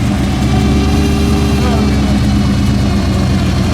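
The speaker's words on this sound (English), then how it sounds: "Here we go, a convoy coming in now." Engines from a convoy of muscle cars and custom cars arriving at a car meet rumble loudly and steadily, a deep low drone close by with a voice talking over it.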